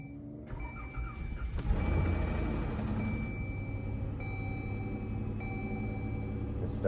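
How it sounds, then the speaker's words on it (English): 2012 Dodge Journey engine starting with a newly installed starter, a brief crank that catches and settles into a low steady idle nearby, with a faint electronic chime tone in the background. "new starter installed. Let's see if it'll start now."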